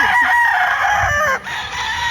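A rooster crows loudly and close among other chickens, a drawn-out call followed by further crowing and clucking from the flock, with a brief dip partway through.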